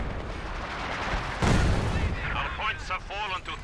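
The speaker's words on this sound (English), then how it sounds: "Counter barrage though was active." Artillery counter barrage in Company of Heroes 2, a dense rumbling wash of distant shell impacts with a sharper blast midway, under a voice talking throughout.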